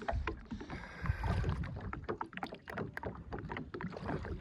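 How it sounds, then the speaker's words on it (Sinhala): A small kayak moves across a lake, its paddle strokes splashing and dripping in quick, uneven bursts of close, soft water sound, with no talking. "ඔන්න බෝට්ටුව අපේ පොඩි කොයක් එක හැරි යනවා"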